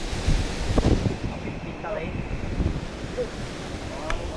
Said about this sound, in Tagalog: Lakas na ng hangin oh.